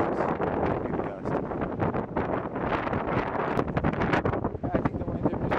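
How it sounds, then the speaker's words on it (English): A big gust of storm wind on the Vancouver Island shore near the water roars and buffets the microphone in loud, rough surges that continue throughout. "Here it comes. Big gust."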